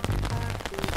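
Cartoon rain sound effect, a dense patter of drops with crackly bursts across a short stretch, loud and close, with no pauses.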